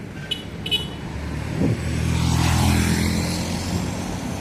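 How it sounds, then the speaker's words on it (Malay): Traffic on a busy city-centre street in Kuantan, Malaysia, with a steady roar of car engines passing nearby and a couple of short horn toots. A vehicle swells louder as it goes by. "Orang terlalu ramai, kereta banyak sebab di tengah bandar."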